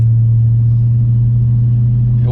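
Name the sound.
1994 Lexus LS400 engine with new exhaust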